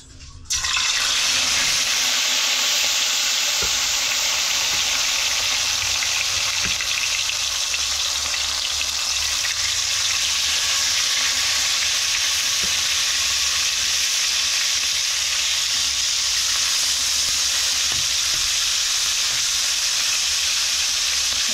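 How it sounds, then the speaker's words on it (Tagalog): Salted, cleaned fish from spearfishing in Palawan drops into hot oil in a pan and fries with a loud, continuous crackling sizzle that starts abruptly and holds steady for a long stretch. "Magsimula na tayong magprito."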